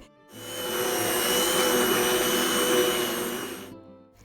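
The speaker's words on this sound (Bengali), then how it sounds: "হ্যান্ড ব্লেন্ডার দিয়ে আমি প্রায় তিন থেকে চার মিনিট এটাকে ব্ল্যান্ড করে নিয়েছি" A hand blender whirs continuously for several seconds mixing rice-flour batter for chitoi pitha, a steady high-pitched motor drone that starts and stops abruptly.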